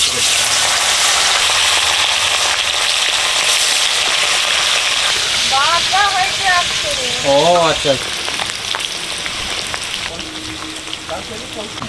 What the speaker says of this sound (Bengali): কুচে মাছটা ভাজা হয়ে গেছে তুলে নেবো